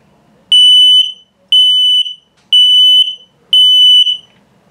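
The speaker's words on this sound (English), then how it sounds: "And low battery alarm." Four loud, piercing low-battery beeps from a detector in a 2021 Flagstaff Micro Lite 25FBS camper, in a steady rhythm, each about half a second long, separated by short silences.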